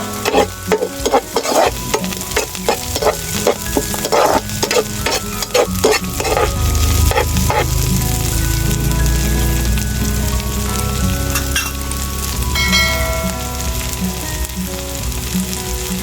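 Red chili goes into adobo sa gata with snails and tofu in a pan, a loud, steady sizzle and crackle of frying with stirring scrapes throughout.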